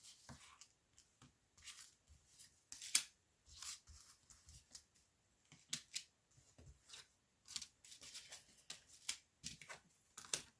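Oracle cards shuffled and drawn for a reading, a run of soft papery riffles, flicks and slaps in irregular bursts, close and quiet with no talking.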